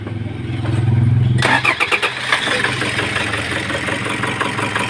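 A Toyota HiAce with a 2KD diesel engine that has knocking, misfire and stalling trouble cranks with the starter for about a second and a half, then catches and settles into a close, clattering idle.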